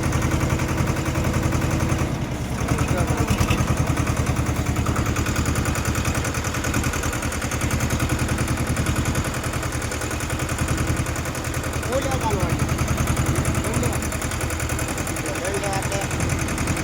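Tractor engine running close by in a steady, loud, low chugging rumble that continues without a break throughout.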